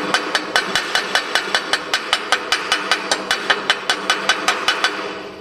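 Rapid, evenly spaced metallic hammer strikes chip slag off a fresh weld on cast iron, about four blows a second, close and crisp, with no talking.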